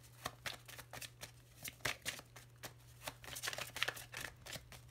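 Lenormand cards shuffled by hand at a tarot-style reading, a steady run of soft, crisp riffling snaps and flicks close up, with a low steady hum underneath and no one speaking.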